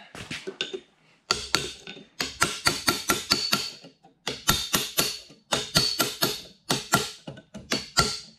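Sharp metallic taps come in quick bursts of several hits with short pauses between them as a lock washer is driven back on a 1955 vehicle, close and loud with no talk.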